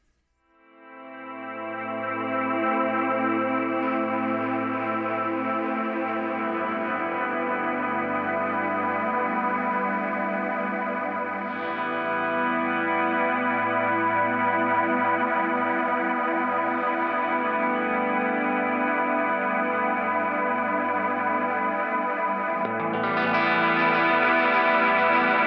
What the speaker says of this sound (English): it will freeze your delay and keep cycling it back to you